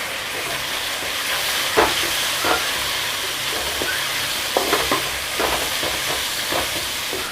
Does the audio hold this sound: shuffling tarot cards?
no